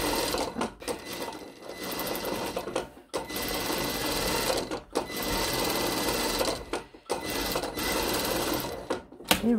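A sewing machine runs close by while stitching a blouse's shoulder straps, whirring in bursts of a second or two separated by short pauses.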